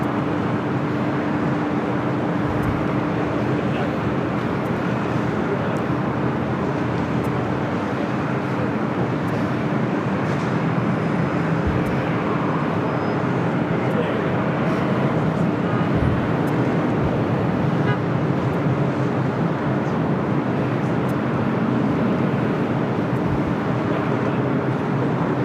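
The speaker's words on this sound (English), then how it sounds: "KLM Flight 604 heading back to Amsterdam in a 787-9 Dreamliner, our next takeoff. Now rolling down at 25 right." A KLM Boeing 787-9 Dreamliner rolls for takeoff on runway 25 right at LAX, a loud, steady roar of jet engines that stays constant with faint thumps in the rumble.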